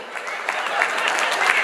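A crowd at a UK cultural association anniversary gathering claps continuously, a dense, steady wash of applause with a voice faintly mixed in.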